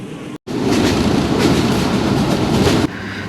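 The Rocket Express mail train between Khulna and Jessore runs on the rails with a loud, continuous roar and rumble of wheels. A very brief dropout comes near the start, and the noise eases off toward the end.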